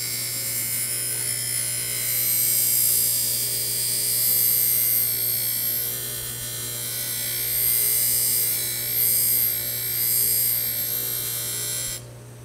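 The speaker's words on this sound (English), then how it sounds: "So now I'm gonna use a soft wheel to actually clean that up." Soft grinding wheel on a bench grinder cleaning up a steel knife blade, a steady high buzzing whine over a constant motor hum, close and loud, swelling slightly as the blade is pressed, stopping at the end.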